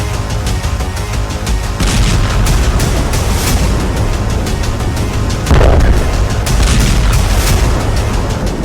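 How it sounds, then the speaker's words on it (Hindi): An Israeli bunker buster bomb explosion in news footage: a loud, sustained rumbling roar with a heavier blast surging past the midpoint, and no talk. "इजराइल ने जिस बंकर बस्टर बम से नसरल्लाह को उड़ाया उसकी पूरी फिल्म दिखाई।"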